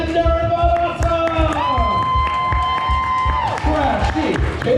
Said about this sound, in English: keep that applause going for the one and only Captain Darren Bonazzo.